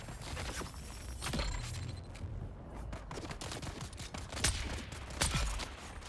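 Sustained gunfire in a Dune: Awakening firefight, with rapid bursts of rounds running steadily through the whole stretch and a few louder, sharper shots standing out near the end.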